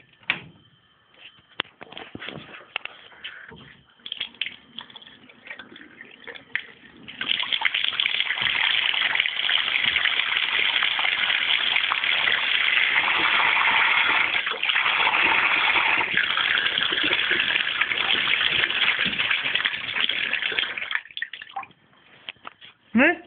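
Water from a gravity-fed overhead tank runs in a steady, loud continuous stream for most of the stretch, starting after a few seconds of softer drips and trickles and tapering off near the end.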